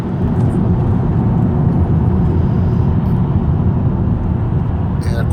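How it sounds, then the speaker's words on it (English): Steady, loud road traffic drones on the approach into downtown Seattle, a continuous rumble and whir of passing vehicles with no clear pauses, heard from inside or near a moving vehicle. "And of course the gnarly traffic."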